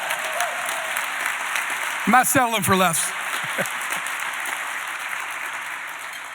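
Applause from a gala audience runs as a steady wash of clapping throughout, while someone speaks a short phrase loudly over it partway through.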